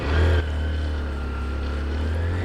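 A motorcycle that needed many kicks to start and keeps stalling, its battery dead, idles steadily at close range with a low, even drone and a brief louder burst at the start.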